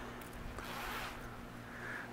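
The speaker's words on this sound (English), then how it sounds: "Nice, smooth opening zipper." A zipper on a four-season sleeping bag being drawn open, a steady soft rasping run lasting a couple of seconds, close and fairly quiet with no talk.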